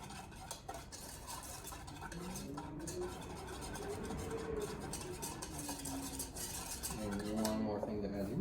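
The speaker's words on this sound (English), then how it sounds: "Mix that in the chocolate egg or the sugar egg mixture." A spoon stirs a chocolate, sugar and egg mixture in a bowl for a French silk pie, scraping and clinking steadily against the sides, close and continuous.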